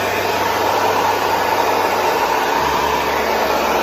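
Hair dryer fitted with a diffuser drying permed curly hair styled with mousse and gel, a loud steady whooshing roar with a low motor hum, continuous and close, with no talking.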